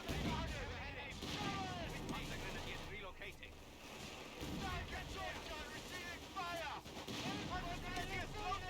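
Enemy artillery fire in Company of Heroes 3 booms and rumbles through a constant battle din, and soldiers' shouted voices ring out over the barrage.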